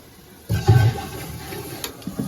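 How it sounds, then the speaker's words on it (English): Water rushes into a toilet bowl as it refills after a newly replaced shutoff valve is turned back on, a sudden gush followed by a softer, continuing trickle and splash nearby. "When we look in the commode, we can see the water's coming in just like it's supposed to be."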